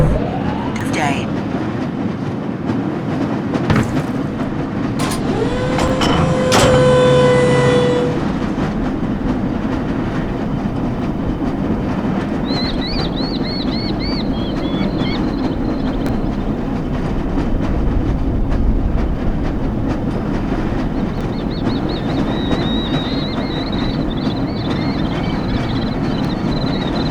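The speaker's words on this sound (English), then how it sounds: "This lever-controlled train will transport you to the location where your training associates are waiting for you." Lever-controlled tram train in the Black Mesa hazard course game rolling steadily along its rails, a continuous rumble with rhythmic clatter and a brief rising whine near the start, faint tones drifting over it later.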